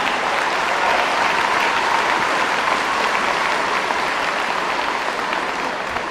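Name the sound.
audience applause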